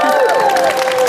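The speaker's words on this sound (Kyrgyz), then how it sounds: "Ошондуктан биздин настоящий катышуучуларга бир кол чаап койбойлу" A studio audience on a Kyrgyz television show claps and cheers for the participants, a dense, steady wash of applause with crowd voices mixed in throughout.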